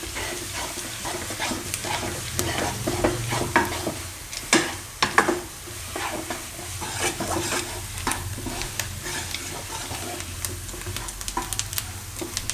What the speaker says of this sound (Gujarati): થોડાક લીલા ધાણા નાખી દે હું ઉપરથી અને મિક્સ કરી દેવું.